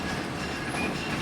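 NC&TSL 710, a steam locomotive at the Tennessee Valley Railroad Museum, runs along the track in a close, continuous rumble with a rolling clatter of wheels.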